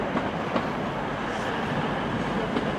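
A pair of Class 185 diesel trains arrive at Manchester, a steady rumble of rolling stock with faint rhythmic wheel clatter throughout, close and continuous with no talking.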